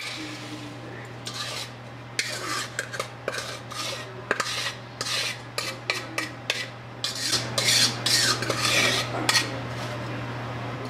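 Granny Smith apple slices stirred in melted butter in a pan: repeated clattering scrapes of a utensil against the pan in uneven bursts over a low steady hum, a soft sizzle underneath, no speech.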